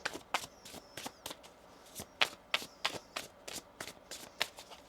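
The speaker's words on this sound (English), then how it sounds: "One more shuffle here." Tarot cards being shuffled close by, with soft, quick riffling bursts in an uneven rhythm against a quiet background.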